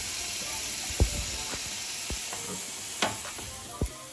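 Pasta sauce, thinned with a little pasta water, bubbles and sizzles steadily in a pan, a dense close hiss broken by a few soft pops and stirring knocks, with no talk.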